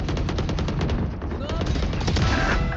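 Gunfire in a battle royale video game: dense, loud bursts of rapid automatic shots rattle continuously at close range, with overlapping volleys and no pause.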